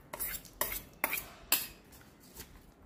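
Millet being mixed in a pot with roasted peanuts and a tempering, heard as several distinct metallic spoon-against-pot clanks at a steady rhythm, close and fairly loud, with no talking.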